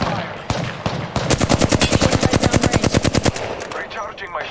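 Rapid automatic gunfire from an Apex Legends match, a steady burst of about twenty sharp, evenly spaced shots running for a couple of seconds, loud and close, with a few single shots before it and battle noise after.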